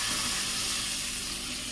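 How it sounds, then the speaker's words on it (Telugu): A glass of water pours into frying egg curry masala, a loud, steady rushing hiss with some sizzle beneath it that runs without a break. "నేనైతే 1 గ్లాస్ వాటర్ వేసుకుంటున్నాను."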